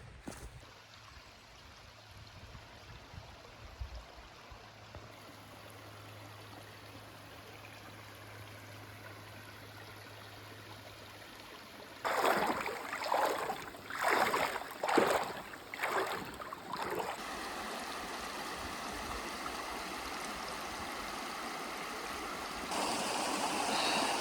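The Little Missouri River flows steadily along a hiking trail, a soft continuous rush of water that grows louder and splashier partway through, with no voices.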